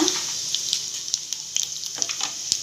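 Cumin seeds crackle and sizzle in hot oil in a pan with whole spices for a phool makhana masala curry, a close, bright hiss dotted with quick pops and spits, no voices.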